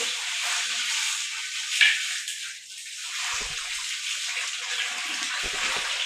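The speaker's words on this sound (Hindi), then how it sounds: "अभी मैं इसमें पानी शामिल कर रहा हूँ 4 लीटर अंदाजे से।" About four litres of water pour steadily into a pot of mutton, making a continuous, moderately quiet splashing hiss for around six seconds with no talking.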